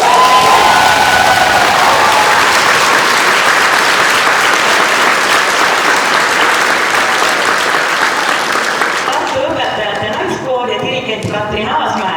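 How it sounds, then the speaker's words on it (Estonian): Loud, sustained audience applause fills a concert hall at a staged concert performance, dense clapping with some cheering that holds steady for most of the stretch before thinning out near the end. "Ja Kersti väärib veel ühte aplausi"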